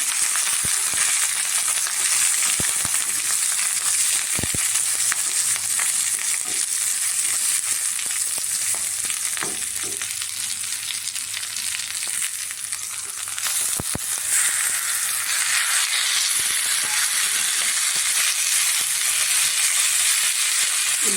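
A masala of onion, coconut, cloves, roasted gram, poppy seeds and coriander leaves fries in a pan for poori sagu. A loud, continuous sizzling hiss carries throughout, with occasional sharp ticks and stirring scrapes.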